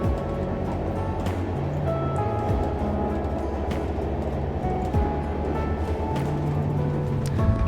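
Mumbai Howrah Duronto Express train running at speed, a steady loud rumble with rhythmic low thuds and clatter from the wheels on the track, continuous throughout with no talking.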